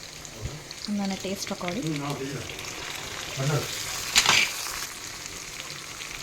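Curry leaves frying with browned onions in hot oil in a pan, a continuous close sizzle with a sharp crackling flare partway through, under someone speaking.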